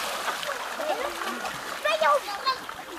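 Water splashing nearby with children's voices and chatter mixed in, short bursts of splashing over a background of flowing water.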